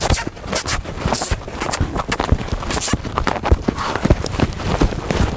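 A horse canters on a long line during ground driving over cavalletti, its hooves striking the ground in a steady, loud three-beat clip-clop rhythm close by, with faint snorting between strides.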